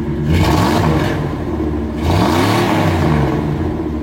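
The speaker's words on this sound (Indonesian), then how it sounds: "Mobil ini dipersenjatai dengan mesin 4000 cc, 6 silinder segaris yang emang bikin penggunanya tuh pengen geber-geber karena tuh aduh suaranya tuh enak banget" A 4000 cc inline six-cylinder car engine with an American character revs loudly and close up in two long swells, its pitch climbing and falling with no voices over it.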